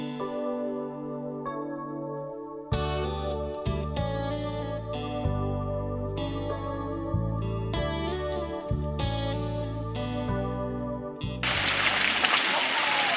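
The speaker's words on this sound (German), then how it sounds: "jetzt ist es der echte Krimmler Wasserfall, der sich hier in die Tiefe stürzt" The Krimml Waterfalls plunge into the depths, a sudden loud, steady roar of rushing water that takes over at the end after a stretch of music.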